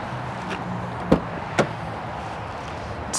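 Two sharp thuds of a Lexus LX450 SUV door land close together in a quiet space, followed by a faint click near the end.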